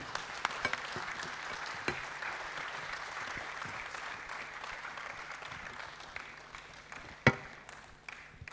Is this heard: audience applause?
yes